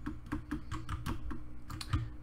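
Computer keyboard keys are pressed in quick, irregular clicks, about a dozen distinct taps close up and clear, with no one talking.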